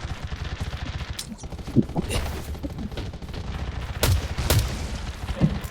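Distant gunfire in the survival shooter Garena Undawn, sharp shots popping irregularly over a steady background while someone talks.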